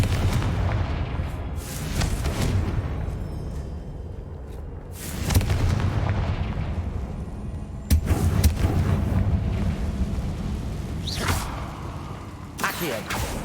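Fire-blast spell explosions from Hogwarts Legacy, several heavy booming blasts with whooshing bursts spread across the stretch, loud and close over a continuous rumbling game soundscape.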